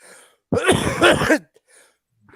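A single close, rough cough, harsh and throaty, lasting under a second, followed by quiet.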